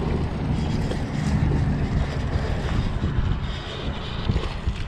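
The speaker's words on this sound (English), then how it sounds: "Wind has really picked up." Strong wind blows outdoors over a fishing boat on open water, buffeting the microphone in a steady, loud rushing roar with gusty swells and no speech.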